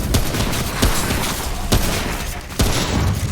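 Gunfire in the video game Remnant: a burst of rapid, loud shots with several sharp cracks spaced through a short stretch, over a dense, noisy game background.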